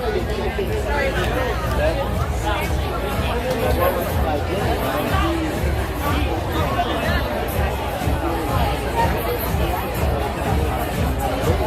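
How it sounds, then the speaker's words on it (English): A dense crowd chatters along Christopher Street in Manhattan in front of the Stonewall, a steady, close wash of overlapping voices and babble with no single speaker standing out. "What a nice crowd we have here."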